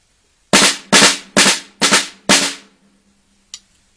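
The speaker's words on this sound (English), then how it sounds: "Executing a roll in this flawed manner, the results will sound something like this." Five loud drum strokes in an uneven roll, each hit landing as a doubled burst with clear gaps between the pairs, then a faint tap after a pause.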